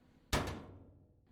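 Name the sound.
door closing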